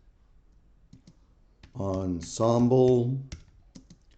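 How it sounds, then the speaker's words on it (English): Computer keyboard typing with soft scattered clicks before and after a short spoken word that dominates the middle. "We just start typing in clarinet polka."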